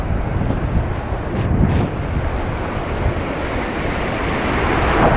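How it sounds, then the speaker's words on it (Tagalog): Strong sea waves surge against a fishing spot, a continuous loud wash of surf blended with wind buffeting the microphone. "Lakas ng alon, hirap."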